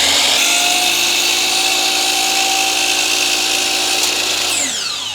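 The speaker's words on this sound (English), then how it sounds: "The best way to do that is on the miter saw." Steady, loud whine of a miter saw cutting baseboard at a 45-degree inside miter, running continuously for about four and a half seconds before spinning down near the end; no talking.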